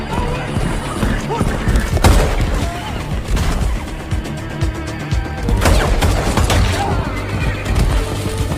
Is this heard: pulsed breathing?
no